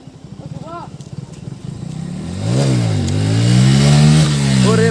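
A motorcycle engine revs hard during a wheelie in a group bike ride, the loud rising roar climbing and holding near the listener, with riders shouting over it.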